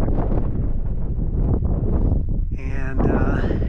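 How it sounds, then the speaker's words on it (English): Strong wind in the high Bolivian desert near the Árbol de Piedra rock formations batters the microphone in low, gusty rumbles. Late on, a brief brighter tonal burst cuts through the buffeting. "it's very windy right now"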